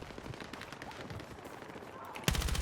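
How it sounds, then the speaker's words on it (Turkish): Gunfire in Battlefield 6 during a sniper-tower fight, a burst of rapid, loud shots crackling near the end after scattered distant pops and background game noise. "Birini vurdum kanka."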